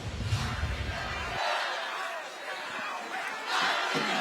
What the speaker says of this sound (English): The crowd is bedlam here at Starpoint